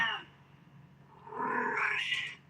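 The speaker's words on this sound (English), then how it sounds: "See, that's when you have a Siamese." A Siamese cat indoors lets out one short meow and then a longer, drawn-out rising meow, close and moderately quiet against a faint background hum.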